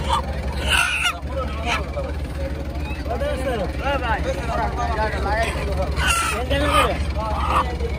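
A rooster crows a few times, the drawn-out calls rising over a busy background of loud voices and chatter close by.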